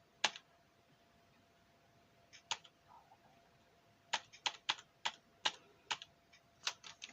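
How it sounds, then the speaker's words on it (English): Computer keyboard typing of numbers, a few isolated keystrokes followed by a quicker run of crisp, evenly spaced clicks, close and clear with no voices. "I have typed in these numbers"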